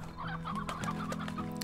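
Chickens in the video game Slime Rancher cluck in short, repeated bursts, fairly close and steady, with faint game sounds underneath.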